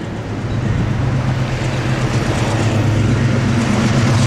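Amtrak passenger train rumbling past close by, a loud continuous low roar of wheels and engine that builds and holds steady, no voices.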